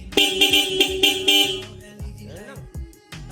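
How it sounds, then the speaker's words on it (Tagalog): A loud aftermarket car horn, newly wired with a twin horn harness kit, honks in repeated short blasts, close by, followed by a few weaker bursts and a brief voice. "Tutunog na yan ng naka-loud horn."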